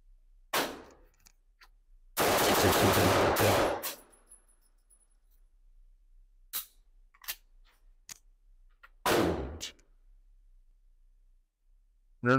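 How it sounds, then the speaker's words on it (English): Handgun fired rapidly at an indoor shooting range, six shots into a target; sharp loud bursts cluster in a fast string, then two more isolated reports follow with quiet gaps and small clicks between. "we get 6 shots into the center of the target"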